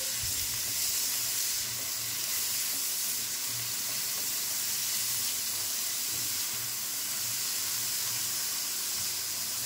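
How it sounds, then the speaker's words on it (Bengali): Dal seasoned with salt and turmeric fries in a pan, giving a steady, loud, dense sizzle that holds unbroken from start to finish with no voices. "হলুদের গন্ধটা যাতে চলে যায় তার জন্য একটু নাড়াচাড়া করে ভেজে নিচ্ছি ডালটা"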